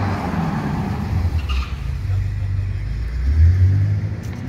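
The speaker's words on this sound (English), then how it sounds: "There's a loud car here." On a London street near a park, a loud car engine rumbles and revs up, a low, heavy drone swelling toward the end over steady traffic and city noise.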